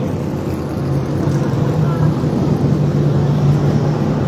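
Race cars roll around the Redwood Acres Raceway oval at the Rhododendron 100 as a continuous low engine drone, building slightly and holding steady from a distance.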